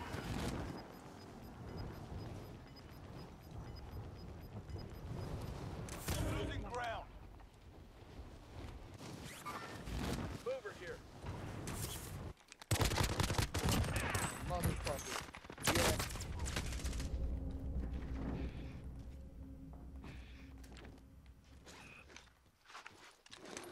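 Gunfire in Call of Duty: Cold War Warzone, with bursts and sharp shots cutting in among footsteps and game noise, a loud volley near the middle, under a player's talk.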